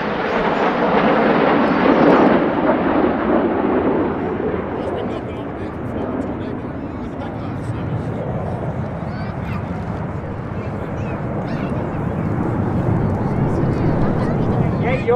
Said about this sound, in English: He turns hard to the left, lines up with Enid in the distance for the Goose.